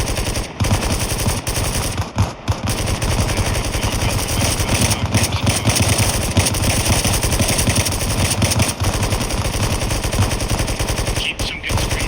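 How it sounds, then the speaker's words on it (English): Sustained automatic gunfire from a squad suppressing a wood line in the video game Bellum, with dense, continuous machine-gun bursts that are loud and close and broken only by brief gaps. "Squad, just go ahead and just fucking start suppressing that wood line."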